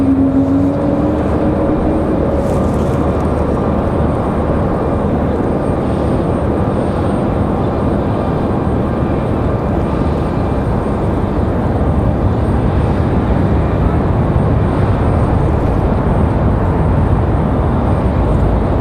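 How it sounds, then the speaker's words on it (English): An Airbus A220 airliner takes off from Raleigh-Durham airport, its loud, steady jet roar filling the scene throughout with a broad wash of engine noise and a faint rising whine early on. "There you go, Moxie 744 off to Manchester, that A220."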